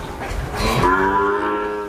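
A Sahiwal bull calf at a dairy farm gives one loud, close, drawn-out moo that rises and then holds steady for over a second.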